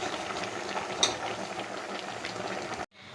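Vegetables with raw banana and yam simmer in a covered pot for an Onam meal, giving a soft, steady bubbling hiss with one brief clink, then cutting off abruptly near the end.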